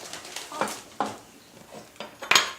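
A spoon stirs sugar for dalgona candy in a metal ladle or pan, making several close, distinct scraping strokes with faint sizzling between them.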